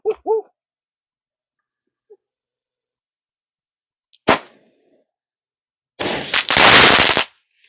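A firework set off upside down gives one sharp crack, followed after a pause by a longer, loud hissing, crackling burst; a brief voice is heard at the very start.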